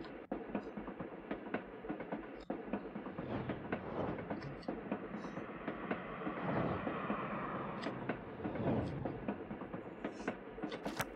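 A train rolls along in the Little Witch in the Woods game, a faint steady rumble with repeated rhythmic clacks running throughout, with no voices.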